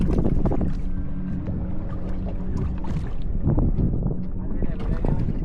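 Racing boats rumble and churn through water at the Wennappuwa Ulhitiyawa boat race in Sri Lanka, with continuous engine and splash noise close by. Excited voices shout throughout.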